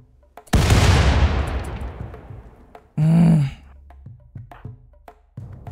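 A sharp boom in a Rimworld game bursts out and decays over about two seconds, followed by a shorter burst of noise and a scatter of faint clicks and pops.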